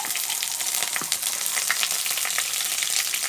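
Chopped onion and green chili fry in a hot pan for pasta, giving a dense, steady sizzle with crackling pops and light stirring scrapes, close and loud throughout.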